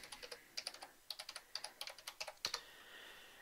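Password keyed in on a computer keyboard, a quick run of crisp close keystrokes in an uneven rhythm, ending with one harder tap like a final enter.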